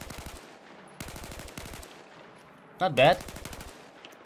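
M16A4 burst fire in Battlefield 4, several short clusters of rapid shots separated by brief pauses, crisp and close, with a short spoken remark partway through.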